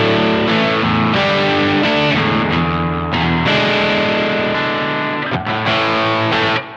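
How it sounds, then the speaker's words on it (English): A 1968 Gibson 330 electric guitar through a plexi-style amp rings out in loud, sustained distorted chords, a crunchy overdriven tone with strummed hits and brief gaps between phrases. "So going on to a gain sound and moving on to the plexi sound on the Revolt here."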